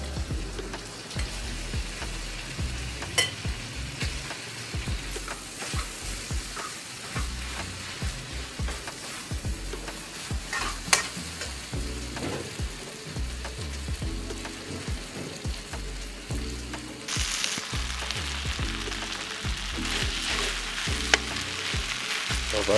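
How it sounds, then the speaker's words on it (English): Rice tossed and stir-fried in a hot pan for a Thai-style pineapple chicken rice, giving a steady close crackling sizzle with frequent scraping and clattering stir strokes throughout, and a brighter hiss rising near the end. "I've added the rice."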